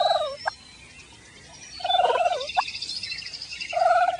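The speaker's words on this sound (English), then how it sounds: "Here's a turkey purring." A turkey purring: soft, rolling trills come in three short bursts separated by pauses, close and fairly clear over a quiet background.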